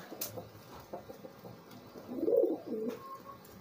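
A homing pigeon, being cleaned and cared for, gives soft, low cooing notes with one fuller coo midway, close by over a quiet background.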